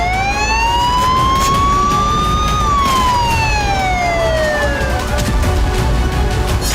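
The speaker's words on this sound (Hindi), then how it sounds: "रूस की हर रिफाइनरी और तेल गोदाम के आसपास खतरे के सायरन बजने लगे" Near a Russian oil refinery under drone attack, a warning siren wails loud and close, its pitch slowly climbing, then gliding back down, sustained without a break over a low rumble.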